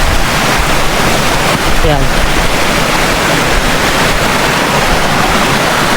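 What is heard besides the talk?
flowing stream of meltwater in Greenland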